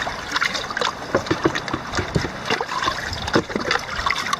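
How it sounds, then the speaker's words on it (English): Gold dredge concentrate and water from a Rogue River cleanup are dumped back into a tub, making a close, loud trickling and splashing pour that lasts a few seconds. "So we'll just go ahead and dump that back in to our tub."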